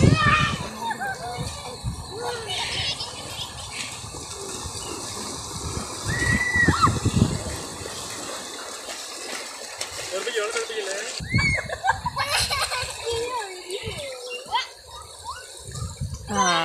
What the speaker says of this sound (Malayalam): വെള്ളത്തിൻ്റെ കളകള കളകള കൂച്ചനോ അങ്ങനെ എന്താ സൗണ്ട് ഉണ്ടല്ലോ